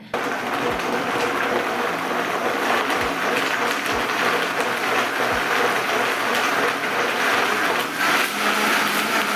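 A Vitamix blender whirs through juice ingredients, a loud, steady motor roar running nonstop with a few faint knocks, no talking.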